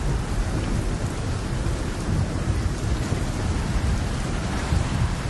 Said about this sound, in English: heavy rains have caused flash floods